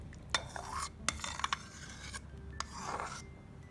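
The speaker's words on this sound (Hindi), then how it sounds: "अब इसको मिक्स कर लेंगे अच्छी तरह से।" Mutton pieces being stirred and mixed with yogurt and salt for a korma marinade, giving wet squelching, scraping strokes against a bowl with a few sharp clinks, fairly close and moderately loud, with no talking.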